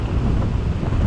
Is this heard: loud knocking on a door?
no